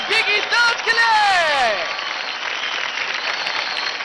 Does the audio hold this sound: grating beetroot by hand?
no